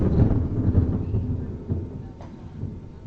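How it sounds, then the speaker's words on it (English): Low rumbling thunder from a thunderstorm rolling in, a close, heavy boom that slowly decays, with a faint softer rumble near the end. "There's a thunderstorm rolling on in here where I live"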